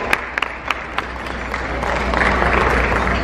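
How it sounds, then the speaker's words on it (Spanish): Audience applause greets a guest introduced on stage at a nutrition talk, steady clapping that builds toward the end with a few sharper claps at the start, amid crowd noise and faint voices. "Vamos a recibir con un muy, muy fuerte aplauso a Mariana García"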